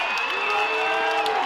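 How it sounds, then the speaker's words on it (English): Crowd at a varsity high school football game near the goal line, a dense, steady roar of cheering and applause filling a brief moment, loud and continuous without a break. "Now the crowd gets back into it."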